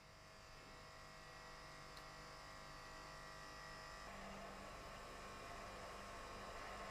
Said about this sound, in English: Pump out the oil.